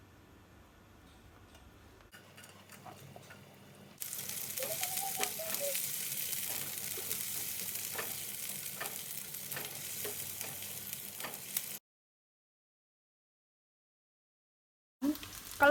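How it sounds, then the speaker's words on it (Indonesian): Garlic and shallots sautéing in oil in a hot wok, a steady close sizzle and crackle with occasional stirring clinks for about eight seconds, then a sudden cut to silence before a brief burst returns at the end. "Tumis bawang putih, bawang merah, baru nanti bumbu yang dihaluskan."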